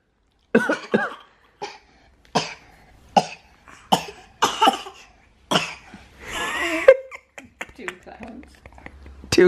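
Young children coughing in short repeated bursts, near and fairly loud, one cough after another with brief pauses and a breathy rasp near the end.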